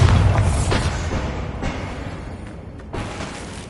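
Bombarda blasting spell in Hogwarts Legacy: a heavy booming explosion that opens loud and decays, followed by a second sharp burst near the end, no voices.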